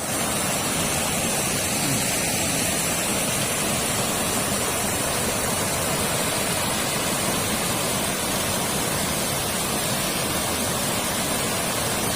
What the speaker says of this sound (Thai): ได้ยินเสียงน้ำตกไหมครับเพื่อนๆนะ